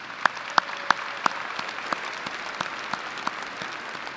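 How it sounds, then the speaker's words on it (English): Commencement ceremony audience applauding, a steady wash of clapping from a large crowd in a big hall, with a few sharp individual claps standing out near the microphone. "let's give them a round of applause because this is their day too"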